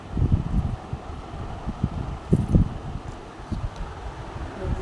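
Strong wind blows outdoors on a hot, sunny day, buffeting the microphone in loud low gusts with gentle rustling between them and no talk.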